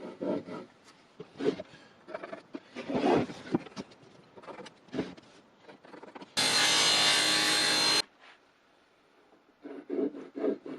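Hand-sawing a wooden panel: close rhythmic rasping strokes, with a burst of loud steady power-cutting noise partway through, surrounded by scraping and handling sounds.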